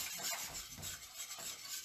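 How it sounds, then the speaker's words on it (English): A whisk stirs a simmering white wine Alfredo sauce in a pot, making soft, steady swishing scrapes with a few repeated strokes over a gentle bubbling hiss. "You're just gonna simmer it low and with your whisk, just stir."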